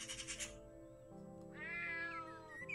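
A cat meows in the point-and-click game Milo and the Magpies: a short bright meow, then a longer drawn-out wavering meow after a pause, clear over a quiet low musical background.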